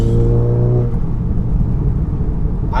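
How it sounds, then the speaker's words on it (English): Turbo whoosh and deep exhaust rumble from a 500+ hp front-wheel-drive Seat Cupra, loud and close, with a rising whine heard through the intake that eases off partway through. "You can hear the turbo through the intake."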